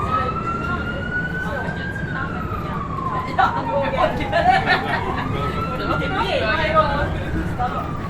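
An ambulance or police siren wails on a New York City street, its pitch sweeping up and down over steady traffic noise, fairly close and continuous, with people talking nearby.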